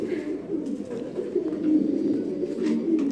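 Austrian pigeons coo close by in a continuous low, throaty murmur that rises and falls, with faint chirps in the background.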